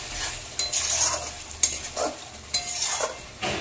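Spice masala sautéing in a pan for chicken pulao, a soft continuous sizzle broken by several distinct stirring scrapes and knocks of a spoon, close but fairly quiet, no voices.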